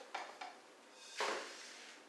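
Browned chicken goes into a bowl in a kitchen: two light clinks against the dish, then a louder scraping clatter that fades, fairly quiet and close.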